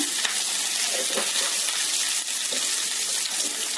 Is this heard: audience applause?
no